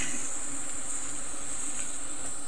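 Bees drone around a small beehive in a rural countryside setting, a continuous high buzzing hum that holds steady and fairly close, with no talking over it.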